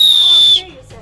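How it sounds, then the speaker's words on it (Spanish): A single loud, steady, high-pitched whistle blast lasts about half a second, then cuts off abruptly into near silence. "¿Qué suena el silbato?"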